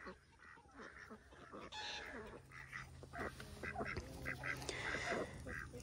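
Ducks quack in a garden near a horseradish and potato patch, a chorus of nasal, fairly close calls in short bursts over soft background noise.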